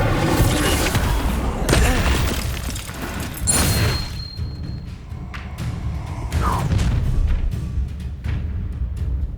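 The Incendio fire spell in the video game Hogwarts Legacy bursts out as loud, deep booms and heavy thuds during combat, with a roaring rumble that fades between blasts.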